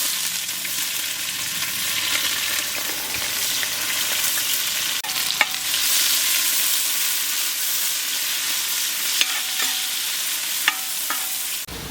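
Onions sizzle steadily in hot oil for a beef bone curry, with dried chillies already in the pan. The frying hiss is loud and constant, with a few sharp clicks of the spoon stirring near the end.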